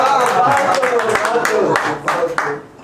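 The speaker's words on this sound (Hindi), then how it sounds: "तालियां बजाकर मेरा स्वागत करें" Audience applause welcoming a poet at a Holi poetry gathering, a dense wash of many hands clapping close up, steady throughout and tapering off near the end.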